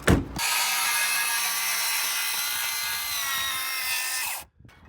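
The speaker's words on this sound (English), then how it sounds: "Just cutting the rest of the wood down now." A power saw cuts through wet lumber for hillside wooden stair construction, a steady close, loud buzzing whine lasting several seconds before cutting off abruptly.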